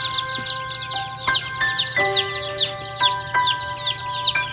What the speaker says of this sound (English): I think that'd be our rooster.